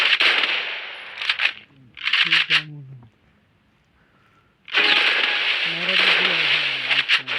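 Loud bursts of rapid video game gunfire in several volleys, separated by a brief quiet gap, with a voice speaking between shots.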